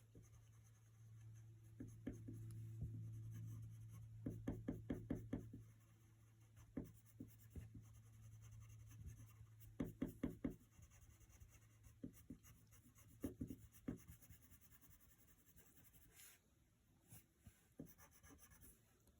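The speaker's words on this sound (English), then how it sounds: "So start on the edge and push really hard and bring your pencil in." A pencil pressed hard and shading on paper, quick back-and-forth scratchy strokes in short bursts separated by pauses, close and quiet over a low steady hum.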